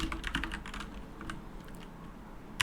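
Rust code being typed on a computer keyboard: a quick, close run of clattering keystrokes, denser at first and then thinning out, with no voices.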